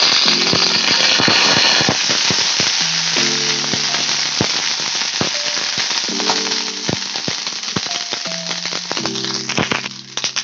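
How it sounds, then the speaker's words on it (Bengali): Whole green chillies and ginger paste sizzle steadily in hot frying oil, a loud continuous crackle with sharper pops throughout and faint background tones. "দুটো আস্ত কাঁচা লঙ্কা কাঁচা লঙ্কাগুলো যদিও ফাটবে তাহলেও দিলাম"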